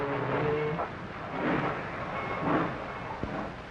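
Freight train 86 rolling into a rail yard, a continuous heavy rumble of moving cars with squealing wheel tones and a sharp clank near the end, loud and close.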